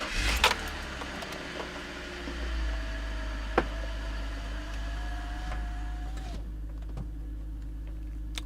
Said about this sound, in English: why don't we go ahead and start the car